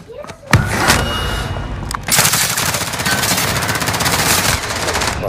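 Rapid automatic gunfire in Call of Duty Warzone, a battle royale video game: sustained loud rattling bursts with a few sharp thuds at the start, continuous and close over game ambience.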